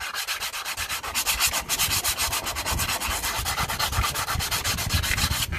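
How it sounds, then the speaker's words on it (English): Steady, close-up rubbing of sandpaper across a painted brake caliper, a continuous scratchy back-and-forth rasp with quick repeating strokes and no talking. "because it's about dry, I like to give it a nice little sanding."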